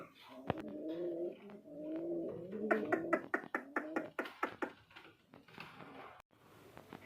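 Pigeons at a pigeon farm coo in low, rolling phrases, followed by a run of quick pattering flutters or taps, close and fairly quiet with no talking.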